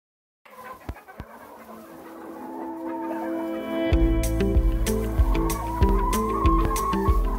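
Homestead chickens cluck around a farm yard amid sharp knocks and clatter, with a low steady hum and layered tonal background that grows louder partway through; no one speaks.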